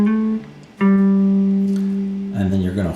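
Guitar rhythm line from a jazz tune: sustained, ringing chords played close and loud, with a fresh strummed attack partway through and another chord change near the end.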